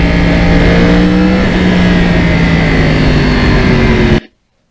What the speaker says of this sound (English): no matter what gear that crossplane is in, the sound is beautiful